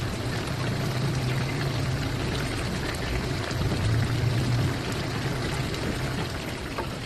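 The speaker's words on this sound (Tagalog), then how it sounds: "Nagdagdag pala ako ng tubig dyan guys, ng kalahating baso." Half a glass of water poured into a pot of vegetable stew topped with fried boneless milkfish, a steady close splashing pour that runs throughout.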